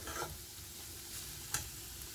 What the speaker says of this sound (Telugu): ఇదిగో చూడండి క్యారెట్ ఫ్రై కూడా చక్కగా వేగిపోయింది